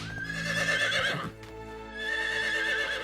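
A horse whinnies loudly and close, a long wavering neigh that breaks off and then rises again, with hooves clopping beneath it and no talk.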